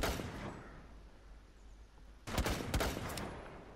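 Gunfire against terrorists in Rainbow Six Siege, a few sharp shots early, then a quick burst of loud cracks in close succession over a low background rumble.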